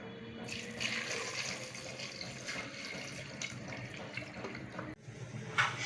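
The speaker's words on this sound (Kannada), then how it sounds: "ನಾವು ಇವಾಗ ನೀರು ಹಾಕೋಣ." Water pours steadily into a pot for boiling potatoes, a close continuous splashing rush that runs for about five seconds, breaks off briefly, then resumes with a brighter gurgle; no voices.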